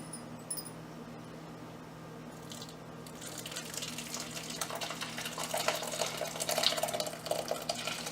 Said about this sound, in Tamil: இந்த திரிஞ்ச பால் இதில் வடிகட்டி எடுத்துக்க போகிறோம்